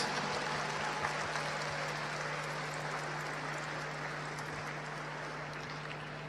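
Audience applause at the 2016 European Dog Show during the Group 1 placings, a steady wash of clapping from a large indoor crowd running the whole time over a constant low hum.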